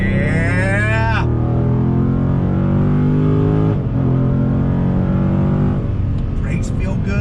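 A Dodge Challenger Scat Pack Shaker 50th Anniversary's powerful V8 engine roars as it accelerates hard, its pitch climbing then dropping with each gear shift, loud and close throughout.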